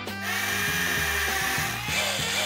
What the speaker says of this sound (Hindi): मेरे पास ड्रिल है।